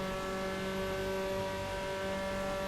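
An F4 race car at Monza in Assetto Corsa, its engine holding a steady, loud droning tone at fairly constant revs, with no talk over it.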